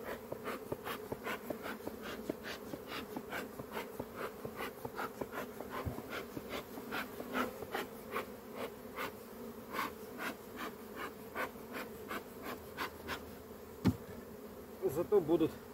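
Honey bees buzz around a hive full of honey, a faint, steady drone with individual bees passing close by in repeated short swells, heard alone in a quiet outdoor setting.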